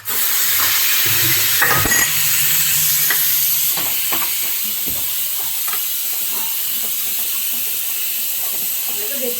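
Tadka tempering sizzling and hissing steadily in a hot pan in a home kitchen, with a few clinks and stirring knocks and faint background noise throughout.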